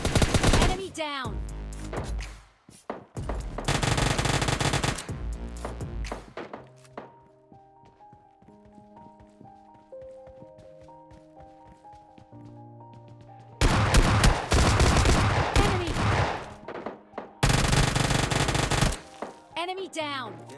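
Gunfire in the mobile shooter game PUBG Mobile Lite, from an M416 assault rifle with a 6x scope, comes in loud rapid automatic bursts near the start and end, with quieter game sounds and tones in between.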